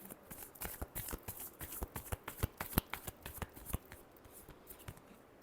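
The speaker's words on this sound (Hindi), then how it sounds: "Last shuffle." Tarot cards are shuffled by hand up close: a rapid, uneven string of crisp flicks and slaps that thins out near the end.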